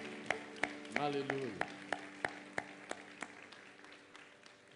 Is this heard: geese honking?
no